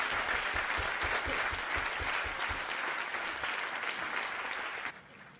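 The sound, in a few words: students applauding their professor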